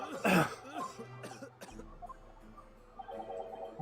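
A character in an Ace Attorney video game lets out one sharp, loud cough near the start, and soft tonal game sounds follow.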